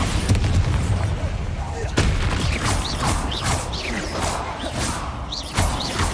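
An explosive Bombarda spell goes off in the Hogwarts Legacy video game during a fight with spiders: sharp booming blasts land within dense, continuous game combat audio, with a clear burst near the start and another near the end.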